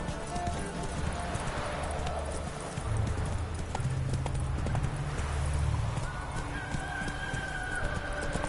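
Roach, a horse in The Witcher 3, gallops in a rapid rhythmic clip-clop of hooves that carries through the whole stretch, with game sounds and a brief tonal layer underneath.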